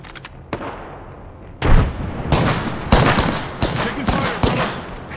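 Rapid bursts of gunfire crackle from a battle in the Apex Legends video game, several loud volleys stacking up over a steady rumble of combat noise.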